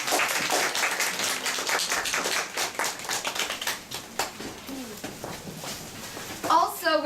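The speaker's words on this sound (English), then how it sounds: "I want to give you another round of applause to the panelists" Applause for the panelists at a discussion event is lively at first, then thins into scattered clapping, and a voice begins speaking near the end.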